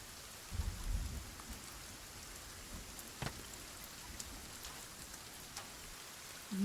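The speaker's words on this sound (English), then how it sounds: "It's raining! I hate that." Rain falling in the survival game Sons of the Forest, a steady soft hiss of drops with a low rumble near the start and an isolated sharp crack midway, fairly quiet and with no voices.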